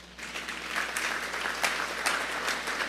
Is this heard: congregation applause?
yes